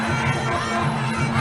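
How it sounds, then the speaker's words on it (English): At a Muay Thai stadium, a large crowd roars in approval, a dense sustained wash of cheering and shouting voices that stays loud and steady throughout. "Definitely getting a roar of approval from the crowd."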